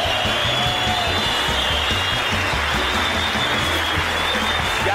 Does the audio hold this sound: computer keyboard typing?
no